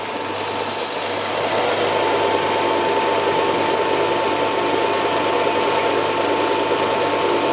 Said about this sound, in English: That's right, grind the whole lot off.